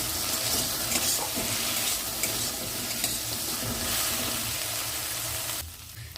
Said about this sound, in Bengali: ভালো করে ভেজে নেব ঢেঁড়সটা